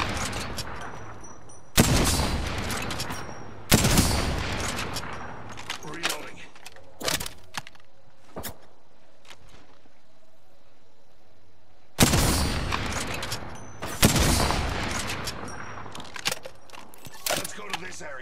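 Apex Legends gunfire, loud bursts of rapid shots in two clusters with sharp single cracks between them and a quieter stretch in the middle, with voices speaking at times.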